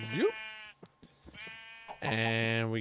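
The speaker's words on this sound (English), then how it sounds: "Sheep, sheep, sheep, sheep, sheep. We get you." Sheep bleating in the Minecraft video game, with a couple of clear, close game bleats at the start and end and someone talking quietly between them.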